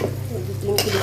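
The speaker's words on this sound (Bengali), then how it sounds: "ডিম দিয়ে আলু দিয়ে ভাজি করছি।" Eggs and potatoes fry in a pan, a steady soft sizzle with light stirring scrapes throughout, close and alone with no voices.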